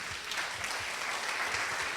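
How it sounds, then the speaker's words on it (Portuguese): Church congregation applauding together, a steady dense clapping that fills the room evenly for a couple of seconds, with no voices over it. "Então vamos aplaudir"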